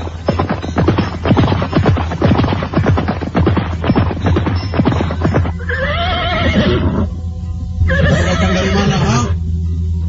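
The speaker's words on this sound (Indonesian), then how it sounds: "Mendadak, dari jauh dia mendengar derap kuda mendekat." Staged radio drama effect of a horse: fast rhythmic hoofbeats galloping closer for about five seconds, then two loud, drawn-out neighs, close and prominent over a low steady hum.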